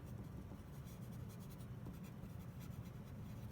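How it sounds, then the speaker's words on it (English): A pencil traces over a photograph, giving a steady, continuous dry scratching close up with no talking. "we're gonna draw or trace over the photograph the value shapes that we see happening"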